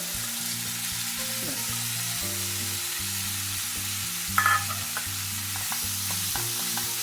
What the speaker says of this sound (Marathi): यामध्येच खवा भाजून घेते